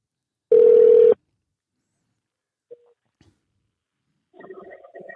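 A single telephone ring tone sounds loud and steady for about half a second, followed by a brief faint blip and then a muddled burst of line noise as the call connects.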